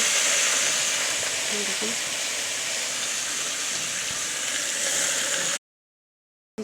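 Leafy greens fry in a hot pan, a dense steady sizzle and hiss from close by that cuts off abruptly near the end, with someone briefly speaking.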